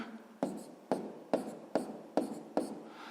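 A pen scratching out a math multiplication by hand, six short, evenly spaced strokes, quiet and close, with no talking.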